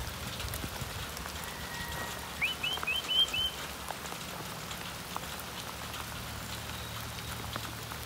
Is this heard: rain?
yes